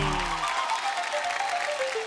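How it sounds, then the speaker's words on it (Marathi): A studio audience at a Marathi television show applauds with steady, dense clapping that fills the whole span. Some music at the start fades out beneath it. "एकदा जोरदार टाळ्या झाल्या पाहिजे"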